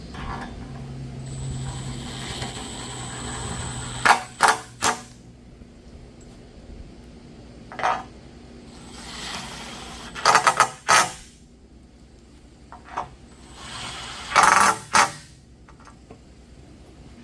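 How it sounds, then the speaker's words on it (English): Structural fasteners 3 1/8 inches long are driven into a fifth-wheel RV's steel frame and aluminum sidewall, giving several short loud bursts of power-tool whirring and grinding between quiet pauses. "So now I'm going to install these 3 and 1/8 inch industrial fasteners."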